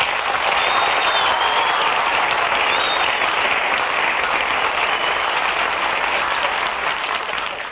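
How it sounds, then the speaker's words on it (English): A radio show's studio audience breaks into loud, dense, sustained applause that fills the room evenly and tapers only slightly toward the end, with no voices on top. "Never mind the applause"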